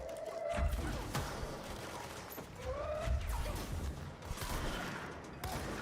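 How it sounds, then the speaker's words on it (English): A shotgun fires in the video game Control, a few heavy, booming blasts spaced seconds apart over a steady rumbling game background. "Shotgun."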